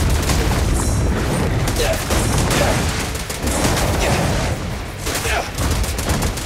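Rapid gunfire bursts from the video game Zenless Zone Zero, loud dense volleys and booming shots packed close together with game sound effects, continuing throughout the stretch with little pause.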